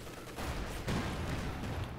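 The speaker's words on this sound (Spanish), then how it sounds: "¿Le puedo volver a pegar otro cañonazo?" Tank cannon fire from a Soviet T-34 in the World War II strategy game Company of Heroes 2, a dense loud burst of battle noise with a sharp blast near the middle, continuing without talk.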